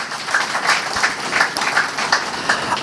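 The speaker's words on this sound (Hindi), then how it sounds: "अब जोरदार ताली बजाएं पहले तो।" An audience at a Guru Purnima spiritual discourse claps together in rhythmic applause, a steady, moderately loud wave of hand claps pulsing at an even beat throughout.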